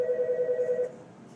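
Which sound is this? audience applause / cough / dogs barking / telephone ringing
telephone ringing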